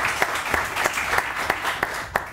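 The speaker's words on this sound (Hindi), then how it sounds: "डॉक्टर जावेद आलम साहब के लिए बहुत सारी तालियां" Studio audience on a Pakistani morning show applauds a guest doctor arriving on set, a steady wash of clapping with sharper individual claps punctuating it, close and fairly loud, no talk over it.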